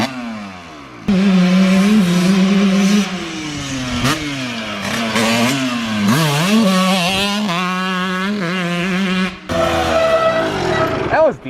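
A Kawasaki KX125 two-stroke dirt bike revs hard while ridden nearby, its whining engine note rising and falling through repeated throttle blips, with brief cut-offs between bursts.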